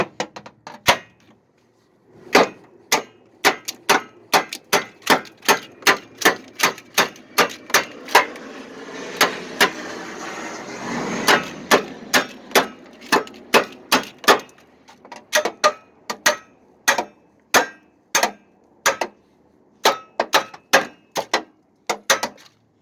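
A hammer strikes a 2007 Pontiac G6 headlight assembly over and over in sharp, close knocks. The blows come in quick uneven bursts, with a stretch of scraping and rustling noise in the middle.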